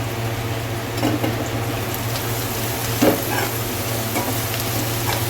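Onions fry in oil with a pinch of turmeric for an egg curry with tender tamarind leaves. The crackling sizzle is steady and close, with occasional stirring scrapes over a low hum, and no talking.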